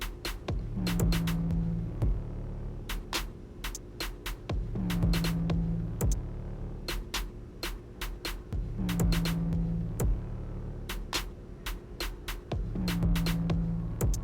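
A Bevel trimmer cuts hair close up with a constant low electric buzz. Repeated strokes bring short tonal rises and bursts of crisp clicking that come back every few seconds, with no talk.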